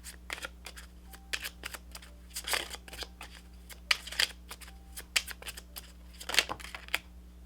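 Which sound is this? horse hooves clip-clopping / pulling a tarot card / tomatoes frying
pulling a tarot card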